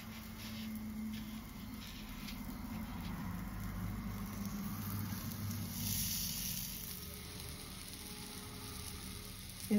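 Fish frying Mangalore style in coconut oil, coated in semolina, with a steady, continuous sizzle and hiss running unbroken throughout at moderate level. No voices are heard.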